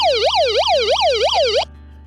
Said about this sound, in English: I'm gonna hit that siren button real quick and let's just see how that does.